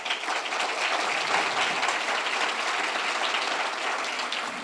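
Audience applause serving as a vote at a Webb County judge candidate forum in Laredo, a steady wash of clapping from a seated crowd, fairly distant and even throughout.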